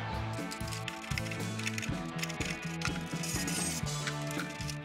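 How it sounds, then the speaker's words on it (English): Screws are tightened by hand to reinstall the chassis of a Fender Blues Jr. guitar amp, with repeated clicking, ratcheting turns and metallic scrapes up close, alongside a steady low hum. "Tighten these top screws most of the way"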